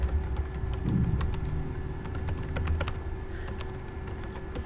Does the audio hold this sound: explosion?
no